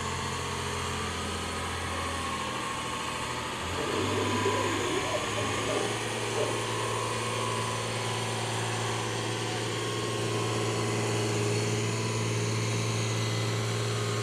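An Oliver 1650 tractor with a Waukesha 265 engine rumbles at a barnyard tractor pull at the Georgetown Fair, a steady engine drone that swells briefly, heard from a distance.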